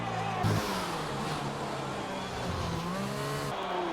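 An F1 race car in a Bahrain GP racing video game howls at full throttle, a loud high-pitched engine whine climbing through the gears with brief shifts, continuous and close.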